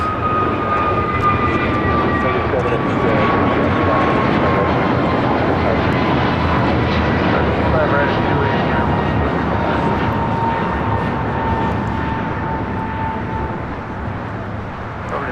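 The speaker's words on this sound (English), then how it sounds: "This is American Airlines Flight 59 taking off to Kailua, Kona on an A321neo." An American Airlines Airbus A321neo takes off from LAX, heading for Kailua-Kona. Its loud, steady jet roar carries a high whine that slowly drops in pitch, and the sound tapers a little toward the end as the plane moves off.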